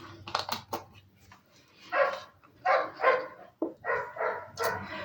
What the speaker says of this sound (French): le chien du voisin n'arrête pas d'aboyer